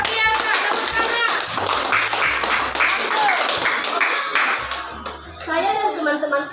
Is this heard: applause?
yes